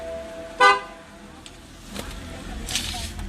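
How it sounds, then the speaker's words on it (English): One short, loud toot from the horn of a BMW E90 3 Series, heard up close inside the car, followed by quiet cabin noise and faint shuffling. "Horn."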